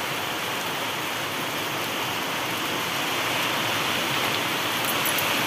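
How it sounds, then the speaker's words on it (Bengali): Heavy rain pours down outside a home kitchen, a dense, steady roar of water hitting surfaces that holds even and close throughout, with no voices. "প্রচণ্ড বৃষ্টি নেমেছে,"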